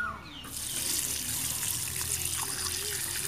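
Warm water pours steadily into a dish of fish boiled with fermented fish sauce, a continuous close gushing splash that settles into an even trickle.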